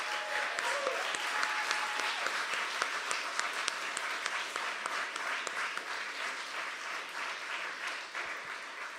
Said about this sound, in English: Can we get another round of applause for our 5 readers?